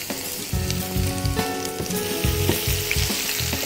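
Chopped garlic fries in hot ghee, sizzling loudly and continuously up close, with crackling pops and occasional stirring scrapes.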